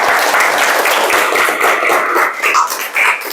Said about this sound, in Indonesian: berikan tepuk tangan dulu buat kelompok 4